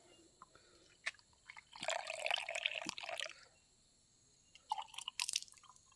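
Water drips and trickles from a tree into a container, short bursts of splashing liquid separated by quiet gaps and sharp single drops, close and fairly faint, with no talk.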